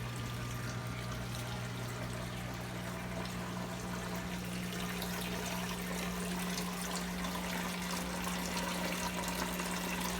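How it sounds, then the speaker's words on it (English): Aquarium water spilling over a waterfall spillway in a fish room, a continuous close splashing pour over a low steady pump hum, unbroken throughout with no voices. "The water's dropping over the waterfall here"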